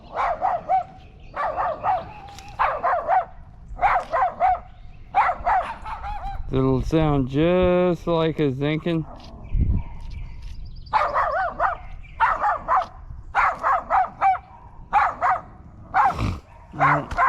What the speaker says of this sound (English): There's 2 dogs barking at me now.